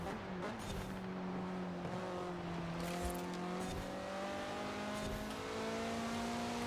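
A 2016 Mazda MX-5 with a naturally aspirated engine revs hard during a race in Forza Horizon 4, its rising engine note climbing through gears over steady road roar, with other cars close by.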